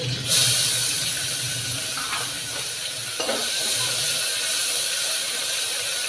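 Sliced onions sizzle and hiss steadily in hot oil in a pan for a cluster beans and tomato curry, a close, continuous frying crackle with a few faint clinks and stirs, no talking.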